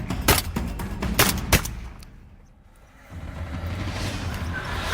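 A rifle fired at a charging wild boar on a farm, giving several sharp, loud cracks within the first two seconds, then a lull that gives way to a steady low outdoor rumble.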